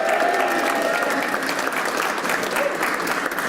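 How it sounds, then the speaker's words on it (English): A room full of people at an awards event applauds board members, a dense, steady round of clapping that holds at a fairly loud level throughout. "Let's give them a round of applause too."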